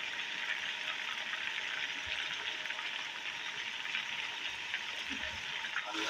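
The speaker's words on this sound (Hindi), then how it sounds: "हमारा चिकन फ्राई हो चुके हैं।" Chicken pieces frying in hot oil for a Lahori chargha, a steady dense sizzle that holds evenly throughout without pause, close and fairly loud, with no talking over it.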